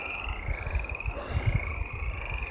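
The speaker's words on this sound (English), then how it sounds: "Mountain frogs." Mountain frogs croak by one of the Lagunitas lakes in New Mexico, a steady chorus of low pulsing croaks with a continuous high trill layered above, moderately near and unbroken.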